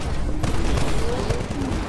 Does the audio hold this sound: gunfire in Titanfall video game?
yes